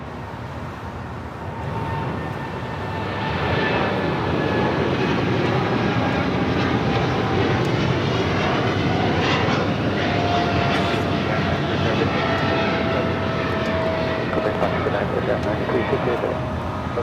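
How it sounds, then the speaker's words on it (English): Boeing 777 freighter rolling down an airport runway for takeoff, a loud, steady jet roar swelling after the first few seconds and holding at full power throughout, with a voice talking over it. "that 777 freighter now rolling it down"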